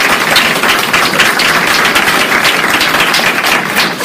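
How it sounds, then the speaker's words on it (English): An audience at a panel discussion on Black political engagement gives a round of applause, dense and continuous clapping that holds steady and loud from start to finish. "a good round of applause for that."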